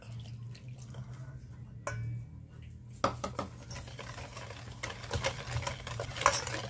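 Milk and sugar stirred in a pot, soft scraping and clinking of a utensil against the pot with a faint background hum, quiet and close, picking up more rapid strokes midway.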